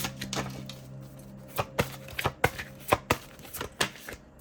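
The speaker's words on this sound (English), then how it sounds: "I'm going to get a couple more cards." Tarot cards being shuffled and drawn during a reading, a series of crisp slaps and flicks that quicken into close, clear bursts of several snaps, over a low steady hum with no talking.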